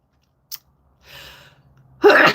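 A single allergy sneeze bursts out sharply at the end, preceded by a small sniff and a soft breathy inhale, close and fairly loud against a quiet room.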